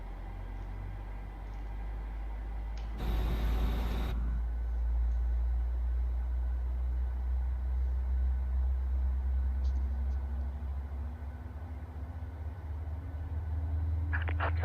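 A pushback tow truck engine idles beside a PMDG Boeing 737 at the gate in Microsoft Flight Simulator, a steady low drone running throughout, broken early by a loud, brief hissing burst.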